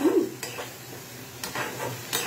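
A spice masala cooking down in a wok, quiet frying hiss under a few sharp stirring scrapes spaced out over a couple of seconds, close by and alone.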